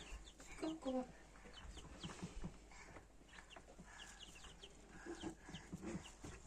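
Chickens cluck and chirp at close range in bursts, with a person's voice murmuring faintly at times underneath.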